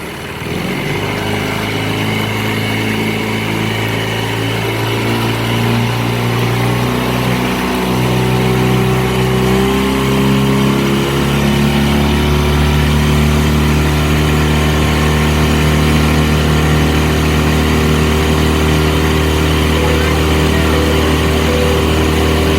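Outboard motor on a small aluminium tinny runs steadily and loudly close by, a continuous droning hum with slight shifts in pitch and no voices.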